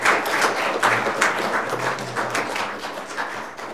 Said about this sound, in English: Another round of applause for the Realtors